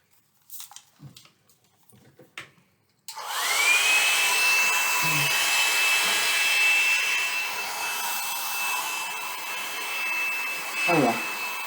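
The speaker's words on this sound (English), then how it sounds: "I wonder if I should hit this with a blow dryer" A hair blow dryer runs steadily on molding paste for a Halloween craft of witches, ghosts and spiders, switching on with a loud rushing whoosh and a sustained high whine, after a few faint knocks and handling sounds.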